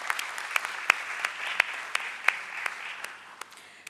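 Welcoming applause for guests at a stock broking taxation seminar hosted at the BSE: a steady wash of many hands clapping, fairly soft and even, with sharper individual claps popping out near the front, no talk over it.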